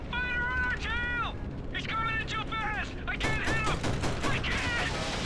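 Rapid bursts of gunfire from an old flight combat video game crackle in dense volleys alongside wavering electronic tones, under steady game noise, with voices talking over it.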